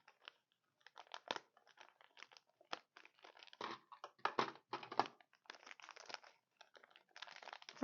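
Plastic packaging of nail art supplies being cut open with scissors, close and crisp, giving a steady run of crinkling snips and crunching rustles with no talking.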